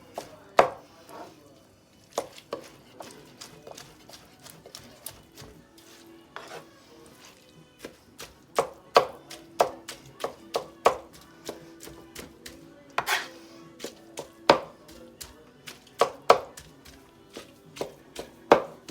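Barbecued meat being chopped on a board with a cleaver or knife, a steady run of sharp, close knocks in irregular rhythm, some quick clusters, no talking.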